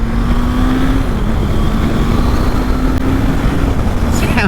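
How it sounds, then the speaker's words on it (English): A Suzuki GSF650 Bandit motorcycle engine drones loudly and steadily, its pitch slowly climbing as it winds up, heard close with wind noise. "listen to that engine wind up"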